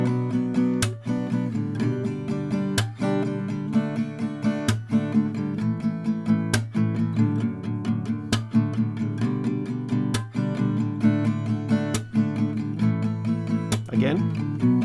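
An acoustic guitar is strummed in a steady pattern of four down-strokes, a clap-like hit, then three down-strokes per chord, the sharp percussive accents recurring regularly at close range.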